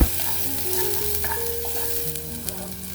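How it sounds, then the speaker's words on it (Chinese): Onions stir-fry in the spoonful of oil left after frying chicken for sambal chicken rice, a close, steady sizzle broken by stirring scrapes and taps of the utensil against the pan. "接着把洋葱加进去，把它炒香、炒软。"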